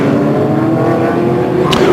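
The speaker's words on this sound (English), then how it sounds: "So we're on board right now with Matthias Lauda, who is now of course chasing Uwe Alsen" Onboard a Speedcar Series race car in a 2008 UAE race, a loud, steady engine drone holds at high revs with a brief brighter burst near the end.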